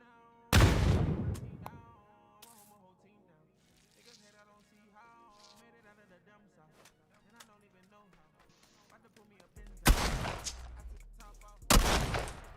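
Two or three loud, booming shotgun blasts in a video game, separated by long quieter stretches of music and game sounds, the last shots coming close together near the end.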